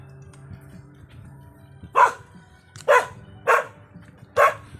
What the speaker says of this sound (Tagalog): Katakot dito may aso.